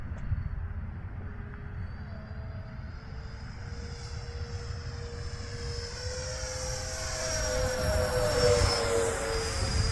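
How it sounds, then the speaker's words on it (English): An E-flite F-15 64 mm EDF model jet flies past with a steady whining ducted-fan roar that swells as it approaches, its pitch sliding as it passes. "this is actually a pretty good sounding jet for a 64"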